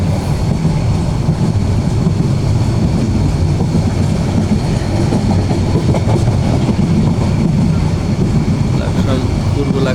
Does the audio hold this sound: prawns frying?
no